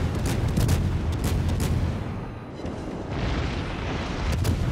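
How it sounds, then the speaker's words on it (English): Anti-aircraft guns fire from a warship in a naval video game, loud rapid booming bursts and a dense rattle of shots that briefly ease off midway before resuming. "Anti-aircraft gun crews are on full alert."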